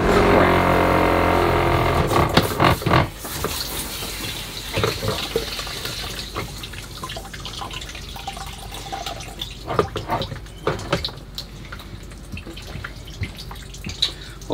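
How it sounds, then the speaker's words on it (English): Water drains and splashes out of an Airstream RV, loud running and trickling at first, then fading to scattered drips and small splashes with intermittent handling noises. "there's so much clear water coming from back over here"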